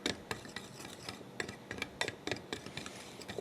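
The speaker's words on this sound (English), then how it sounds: "So I definitely like the Danish dough whisk." A Danish dough whisk works through cookie dough up close, making a rhythmic series of scraping, clicking strokes against the bowl, irregular but steady, with short sharp accents as the whisk drags and turns.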